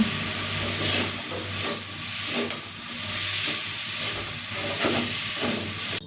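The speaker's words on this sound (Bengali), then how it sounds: "এবার মাছ সহ এই কলার মোচাটা আমি আরও কিছুক্ষণ ভালো করে ভেজে নেব।" Banana blossom fries together with fish in a pan, a loud steady hiss and sizzle with periodic bursts as it is stirred, close by and without talking.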